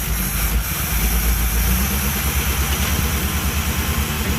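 An engine idles with its choke stuck on, a loud, steady low chug that pulses evenly throughout and never changes pace.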